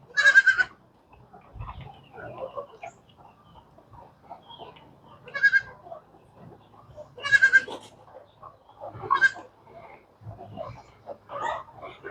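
Goats bleat several times on a farm where chickens are also fed, with loud, close calls spaced a few seconds apart over quiet farmyard background noise.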